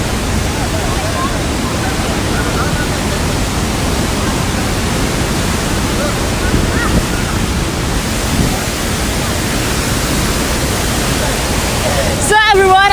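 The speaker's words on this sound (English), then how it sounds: "I enjoy this beautiful scenery, Tegenungan Waterfall." Tegenungan Waterfall in Bali, swollen and muddy after days of rain, roars as a dense, constant wash of water, loud and close, with a brief sharp noise at the very end.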